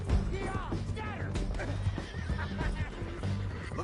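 A horse in the Red Dead Redemption 2 epilogue whinnies loudly several times while hooves clip-clop beneath, mixed with gunfire-like crashes and shouted voices in a chaotic game scene.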